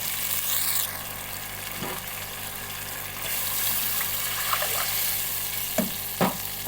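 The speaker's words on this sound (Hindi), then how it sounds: "2 कप हम अब इसमें पानी ऐड कर देंगे" Water poured into a pot of chicken pulao on the stove, a steady hissing and sizzling bed with occasional splashes and stirring clatters toward the end, close and moderately loud.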